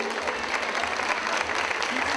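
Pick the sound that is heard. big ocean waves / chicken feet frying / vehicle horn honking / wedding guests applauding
wedding guests applauding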